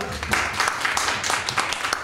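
Audience applause at a concert, a burst of clapping from a crowd that holds steady for a couple of seconds, fairly loud and close.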